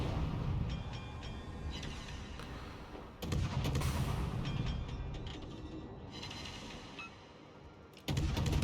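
Naval guns booming in a warship battle video game, heavy mechanical blasts and rumbling at a steady loud level with sharp jumps near the start, midway and toward the end, no talk.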